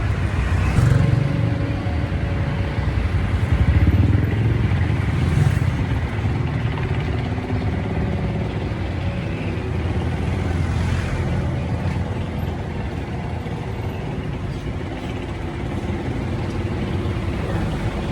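Steady road traffic heard from inside a moving car, a continuous broadband rumble of engine and tire noise with faint passing vehicles and no clear talk.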